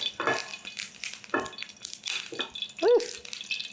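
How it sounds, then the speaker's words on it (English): Hot oil in a pan pops and snaps sharply where a little water from a squeeze bottle hits it, giving close, irregular crackles with a brief whistling squeal near the end. "there was a little bit of water inside my squeeze bottle, so it's getting a bit snappy."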